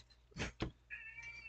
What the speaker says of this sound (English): Our cat is demanding lunch.